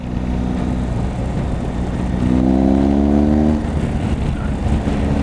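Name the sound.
motorbike engine starting and revving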